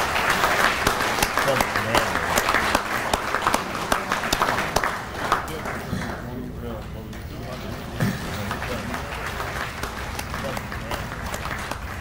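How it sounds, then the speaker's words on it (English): Audience applause for award winners at an American Legion ceremony in Indiana, a steady wash of clapping from a crowd lasting throughout, with a voice speaking over it near the start. "Let's give them a round of applause."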